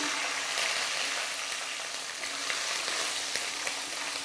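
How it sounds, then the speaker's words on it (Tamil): Continuous soft sizzle of garlic frying in hot oil, an even crackling hiss with occasional faint pops, no voices. "பூண்டு சேர்த்து நல்லா கிளறி விட்டுருங்க"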